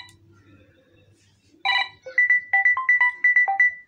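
A Samsung Galaxy A71 ringtone preview plays on the phone as a quick run of bright, bouncy electronic notes. It starts suddenly after a quiet lead-in and is loud and clear with no talking over it.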